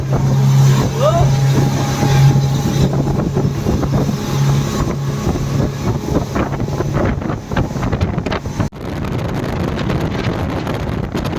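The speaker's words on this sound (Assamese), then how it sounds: "মই আছোঁ স্পীড বোটৰ একেবাৰে আগত। ইমানে বতাহ মানে উৰুৱাই নিবলৈ বিচাৰে" A speedboat at sea near Pattaya, Thailand, its engine droning continuously under heavy buffeting wind noise from the bow, loud and close throughout, with a brief dip near the end.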